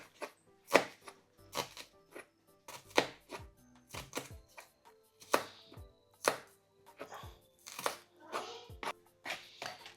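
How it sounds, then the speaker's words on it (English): Knife chopping a small white onion on a board, sharp, irregular bursts of close cuts, with a voice faintly in the background. "Chop up an onion."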